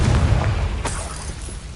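A Confringo blasting curse bursts in a Harry Potter video game: a loud, deep boom with a rumbling low end that rolls and fades over a couple of seconds, a sharp crack landing midway.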